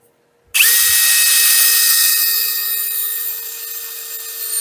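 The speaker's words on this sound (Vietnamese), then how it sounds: "Khoan 304 nó rất là khoai" An HSS cobalt M35 drill bit, size 6 mm, bores into 304 stainless steel without a pilot hole, a loud steady whining grind with a high metallic squeal that starts abruptly and holds for several seconds, alone.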